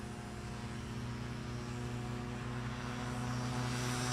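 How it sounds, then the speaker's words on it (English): A small propeller airplane at a STOL practice at Music City Executive Airport, its engine a steady loud droning hum with strong low tones, held evenly throughout and slowly brightening as it powers up. "So now it's almost time for Dan Reynolds to take off again."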